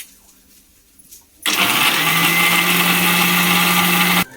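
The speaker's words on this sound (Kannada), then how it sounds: "ಕೊಬ್ಬರಿ ಮಿಕ್ಸಿಗೆ ಹಾಕೊಂಡು ರುಬ್ಬೋಣ ಬನ್ನಿ ಫ್ರೆಂಡ್" A kitchen mixer grinder kicks on after a quiet moment and grinds a small amount of coconut for fish curry. It holds a loud, steady, close whir for about three seconds, then cuts off abruptly.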